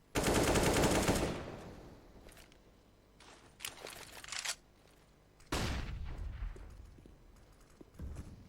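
Bursts of rifle fire from an AWP sniper in a Counter-Strike: Global Offensive match, several loud shots and sustained gunfire bursts with quieter gaps between them, no talk.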